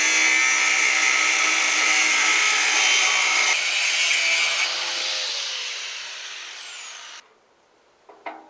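Power saw cutting metal parts for the side panel of a custom folding dovetail flatbed pickup: a loud, steady, bright grinding whine held for about seven seconds, then cutting off, followed by a few faint clatters.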